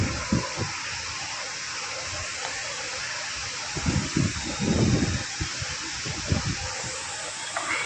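River water flows steadily over the Sitraru dam near Tenkasi, a continuous broad rushing wash with brief low thumps, close and loud with no talk.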